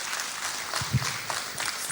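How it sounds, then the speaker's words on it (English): Applause from an audience at a formal address continues as a steady, moderately quiet wash of clapping with a few sharper claps. "Please, can that round of applause continue until he takes his seat?"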